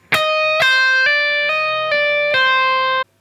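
A clean electric guitar lick: one plectrum-picked note followed by a smooth run of hammered-on and pulled-off notes, bright and close, ringing out at the end.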